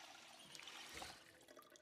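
Water runs into a cleaning liquid bottle in Project Zomboid, a faint, steady trickling pour lasting about two seconds, with no talk over it.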